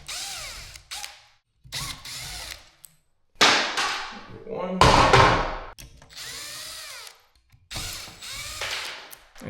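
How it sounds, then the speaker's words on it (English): Screws on ceiling fan blades being backed out with a power driver during replacement of a dangerous fan: about six short whirring bursts with brief pauses between them, close and fairly loud, with faint clinks in the gaps. "now we're about to unscrew these fan blades"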